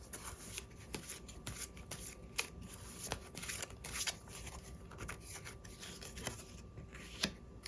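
Tarot cards are shuffled and handled in quiet, close-up, soft papery flicks and slides repeating in irregular bursts, with sharper snaps now and then.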